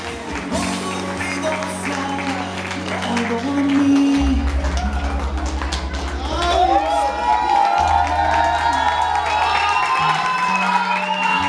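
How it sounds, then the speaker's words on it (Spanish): Party crowd cheering and clapping for two women, mixed with whoops, chatter and loud thumping music with deep bass throughout. "Escuchen bien fuerte, pero fuerte los aplausos para Cecilia y Georgina."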